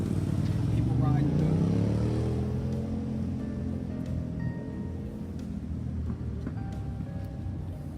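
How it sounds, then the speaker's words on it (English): A motorcycle rolling by at Redondo Beach at sunset, its engine note swelling and then fading under wind noise, with a person speaking throughout. "we've got the motorcycle roll by"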